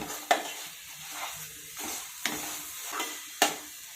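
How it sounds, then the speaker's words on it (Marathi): Spices sizzle softly in oil in a pan for a dhaba-style rajma gravy, with a spoon stirring in slow repeated scrapes and a few sharp taps against the pot. "हे मसाले आपण 1 मिनिटभर चांगले परतून घेऊयात तेल सुटेपर्यंत"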